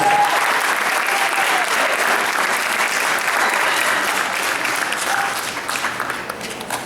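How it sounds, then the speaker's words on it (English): A crowd at a youth YMCA graduation claps in sustained, even applause that holds steady, then fades and breaks into sparse claps toward the close. "Now give yourself a round of applause."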